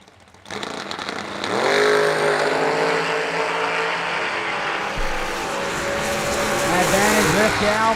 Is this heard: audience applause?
no